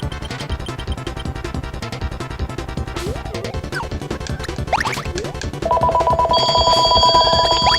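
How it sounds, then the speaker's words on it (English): A telephone rings during play of the video game Kirby's Dream Land 3, its bright repeating electronic trill coming in loudly over the last couple of seconds, layered on busy, clattering game music and effects. "If you hear that phone, please ignore it"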